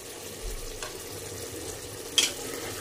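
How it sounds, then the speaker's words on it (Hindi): Turmeric, salt and spices roasting in a pan for shaljam gosht, a low steady sizzle with a few soft stirring scrapes and one sharper clink of a utensil, quiet and close, with no talking. "और इसे अच्छे से हम भून लेंगे।"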